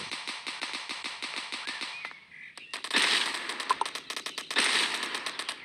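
Gunfire in the game Dude Theft Wars: a steady string of light, rapid shots, then a pause and denser, louder bursts of crackling fire mixed with sharp individual cracks.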